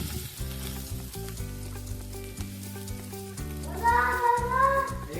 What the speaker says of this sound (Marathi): तेल गरम झालं की एक चमचा बारीक चिरलेला लसूण एक चमचा आलं घालायचं आणि एक चमचा हिरवी मिरची घालायची आणि आपल्याला हे छान मिनिटभर परतून घ्यायचं आहे